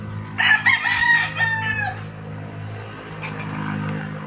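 A rooster crows once, loud and close, its drawn-out call lasting about a second and a half before fading into low background hum.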